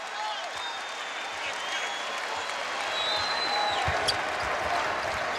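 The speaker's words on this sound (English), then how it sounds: "The crowd here comes to their feet, appreciating the effort here in this first half." A basketball arena crowd at a Creighton Bluejays versus Marquette Golden Eagles college game applauds and cheers steadily at the end of the first half, swelling slightly, with a commentator talking over it and a ball bounce.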